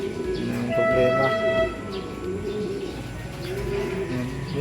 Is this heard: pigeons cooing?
yes